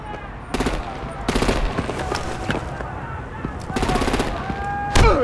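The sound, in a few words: gunfire in video game Batman Telltale The Enemy Within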